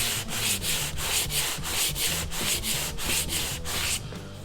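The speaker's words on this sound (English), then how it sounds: "We're now going to sand it back and we're going to see how it looks." Rhythmic back-and-forth sanding of primer and plastic on a car part from a BA Fairmont Ghia 5.4 V8 restoration, close and loud with about ten even strokes, stopping near the end.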